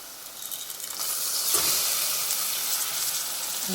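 Soaked moong dal frying in a hot pan for spinach dal, a loud, close, steady sizzle that swells after the first second and keeps hissing evenly.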